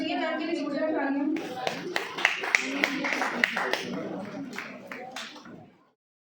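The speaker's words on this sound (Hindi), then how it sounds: "अनसुईया मैम के लिए जोरदार तालियां" A college event audience claps in sharp, distinct hits after a woman's announcement, the applause thinning out and stopping before the end.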